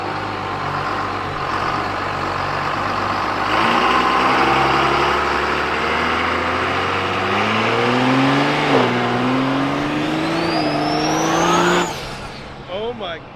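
The Demo-Cuda car pulls away on its first test drive, engine revving and climbing steadily in pitch through the gears, loud and close, before cutting off near the end.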